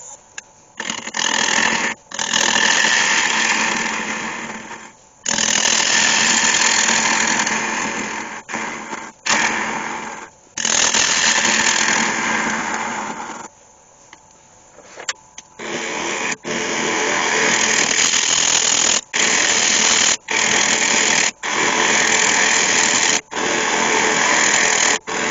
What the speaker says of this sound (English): So continue to hollow this bowl.